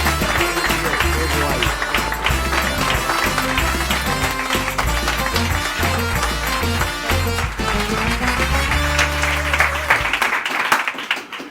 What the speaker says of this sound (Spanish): Un aplauso para Santi Rodríguez